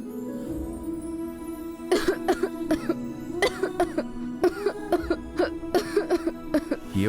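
A person coughs in repeated sharp bursts, more than a dozen hacks in quick uneven succession after a short stretch of quiet, heard up close over a steady background hum.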